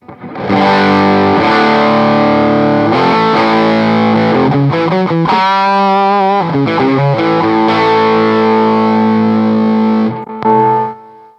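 An electric guitar plays heavily overdriven, sustained chords and single notes through a Bluguitar Amp1 ME tube amp with the master volume at 10, loud and saturated from start to finish with no talking.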